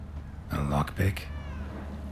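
A cat in The Witcher 3: Wild Hunt, Heart of Stone, gives two short meows in quick succession, close and clear over a low, steady game ambience.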